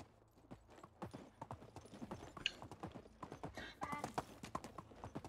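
Donkey hoofbeats while riding at an unhurried walk in the Medieval Dynasty video game, a steady, dense run of close clip-clop strikes with faint background ambience.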